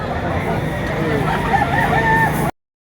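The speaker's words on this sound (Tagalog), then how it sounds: "Mura na itong manok na ito." Chickens and a rooster at a bustling poultry market, busy clucking and crowing mixed with crowd babble and nearby voices, continuous for a few seconds before cutting to silence.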